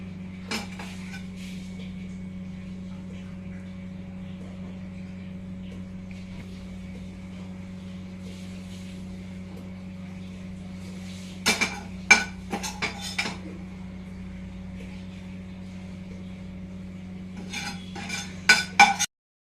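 Sautéed vegetables are tipped into a pot of spicy ramen and stirred, with bursts of metal utensil clinks and scrapes against the pan over a steady low hum from a kitchen appliance.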